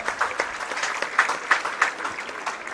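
Audience applause at a French pétanque mixed triples championship, a steady patter of clapping from a modest crowd with a few sharper bursts rising and falling across the stretch.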